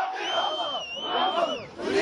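A dense crowd of Gaddafi supporters in Libya chants and shouts with rising and falling voices, a close, loud and continuous mass of cheering.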